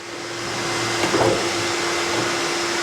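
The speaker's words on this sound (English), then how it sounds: "vacuuming out there" A vacuum cleaner runs steadily in another room, a constant muffled whine and hum at moderate level with no voices over it.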